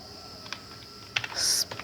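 Quiet keystrokes on a computer keyboard while HTML code is written, a few scattered clicks and then a short burst of typing, close and alone with no talk.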